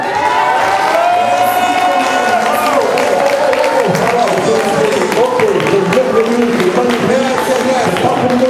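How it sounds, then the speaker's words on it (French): At a wrestling gala, the audience cheers and applauds in a continuous loud roar of clapping and shouts, with voices carrying over the crowd throughout. "ils méritent vraiment vos chaleureux applaudissements"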